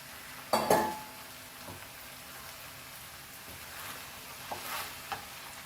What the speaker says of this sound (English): we'll fry the rice nicely along with the. So let's fry this.